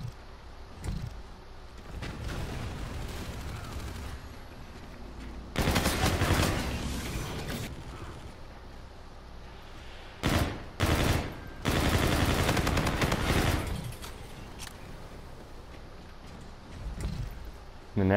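Bursts of rapid automatic fire from the MacTav-45 gun in a video game, loud and close, in several separate volleys with short pauses between them.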